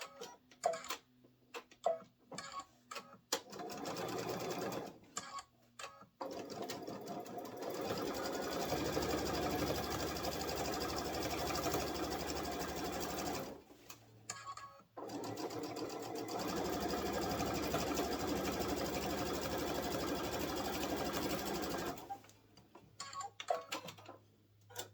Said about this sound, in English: then I'm going to top stitch right above the towel on the fabric so it catches